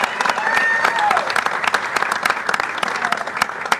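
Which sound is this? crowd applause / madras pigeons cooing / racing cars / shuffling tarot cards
crowd applause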